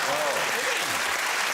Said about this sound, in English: Hugh started his own applause break.